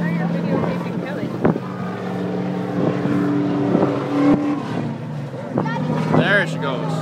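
Race car at a local club event pulling away and shifting up a gear, a revving engine whose pitch climbs, then drops at the shift and climbs again, heard at a distance under excited nearby voices.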